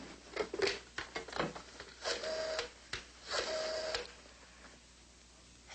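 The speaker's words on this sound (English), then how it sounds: "pick up that phone and dial Beachview 23598" A telephone being dialed, with a series of short clicking and whirring bursts, two of them longer with a steady tone, close and clear with no talking over them.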